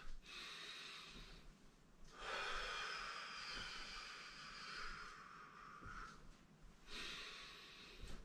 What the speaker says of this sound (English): So it's just gentle breathing through the nose.